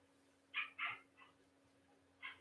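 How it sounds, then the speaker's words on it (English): A small dog barks in short, sharp yaps: two quick ones close together, a softer third, then one more after a pause. The barking is fairly faint and sounds somewhat distant, with no talking. "The little dog sounded like Eli"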